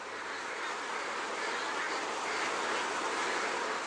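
Dense, continuous din of many ducks packed together on a large indoor intensive British duck farm, a steady loud wash of quacking and calls from start to finish with no one talking.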